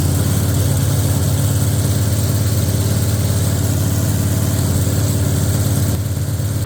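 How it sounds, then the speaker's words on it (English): Newly built and freshly broken-in 390 V8 in a 1968 Ford Mustang runs close by with a loud, steady, rumbling idle and strong low-end throb, no voices. "we got the motor running"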